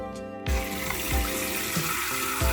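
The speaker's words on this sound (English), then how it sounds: "I'm just adding water to it" Water pouring from a tap into a portable washing machine, a steady loud rushing stream, close up and alone without talk.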